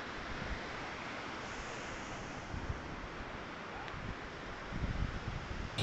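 Ocean waves break on the eroding shore of Rheum Baroh beach in Bireuen, making a continuous broad roar mixed with wind buffeting the microphone. It stays steady, swells slightly near the end, and no one speaks.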